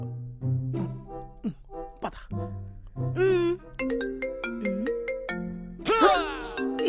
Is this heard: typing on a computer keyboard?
no